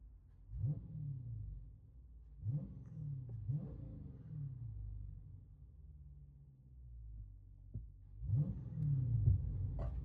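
A 2020 Dodge Challenger Scat Pack with a 6.4L HEMI and dual exhaust, heard from inside the cabin: a smooth low rumble with several short revving swells rising and falling, ending in a longer push.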